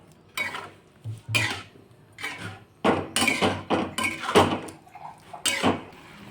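Bottle gourd halwa stirred in a pan over a low flame, a spoon scraping and clinking against the metal in close, uneven strokes, loud and repeated with no talk.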